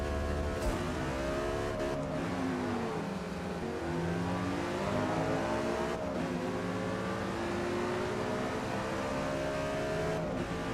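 A 2009 BMW M5 with a V10 engine revs steadily in traffic, its harmonic engine drone rising and falling continuously at close range with no talking.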